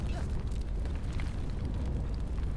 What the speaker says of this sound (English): I love the sound of the fire.